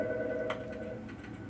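An office desk phone rings in The Stanley Parable video game, a steady electronic tone with faint trilling bursts.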